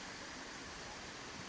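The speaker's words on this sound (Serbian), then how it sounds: "Evo polako prilazimo" Steady broadband rush of the Ripaljka waterfall near Sokobanja, a continuous faint roar of falling water heard from some distance, with no talk over it.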